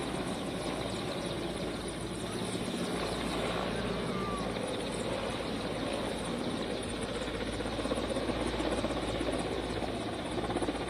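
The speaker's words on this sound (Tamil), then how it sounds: "இலங்கையிலிருந்து ஹெலிகாப்டர் மூலமாக பிரதமர் மோடி தற்பொழுது ராமேஸ்வரம் வந்தடைந்துள்ளார்." Helicopter arriving at Rameswaram, a steady loud rotor and engine roar that holds at an even level throughout, with no pauses.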